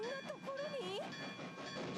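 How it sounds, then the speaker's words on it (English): A train rolls past in an anime episode, its horn or whistle sounding in wavering tones over a rumbling background, fairly faint and brief. "Random train?"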